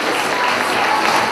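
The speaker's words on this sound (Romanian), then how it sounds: "Aplauze" Applause rises from an audience at a freshman ball at Colegiul Național Unirea in Focșani, a dense, steady wash of clapping that fills the whole short moment with no pause.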